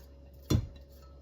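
Spoon stirring kale dip in a pan, a single quick clink and scrape against the cookware, close and brief amid quiet.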